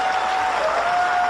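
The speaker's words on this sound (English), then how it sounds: "Applaud any time you want." An audience at a 1988 election night rally applauds, a dense steady wash of clapping for a moment with no voices over it.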